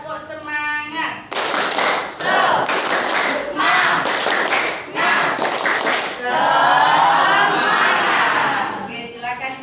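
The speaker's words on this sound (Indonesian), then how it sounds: "kita bertepuk semangat dulu" A classroom of students stands and performs a rhythmic spirit clap, bursts of sharp, loud group clapping in quick patterned bouts with brief pauses, mixed with voices chanting along and a little laughter.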